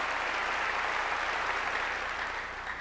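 Congregation clapping during a sermon, a brief, even wash of applause filling the room at moderate level with no voices on top.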